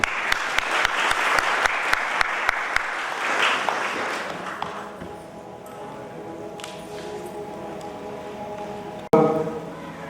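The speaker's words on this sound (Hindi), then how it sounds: "आइए जोर से ताली बजाएंगे।" Wedding guests in a church clap loudly and steadily at first, the applause thinning and fading out over several seconds, followed by quieter room sounds and a sharp knock near the end.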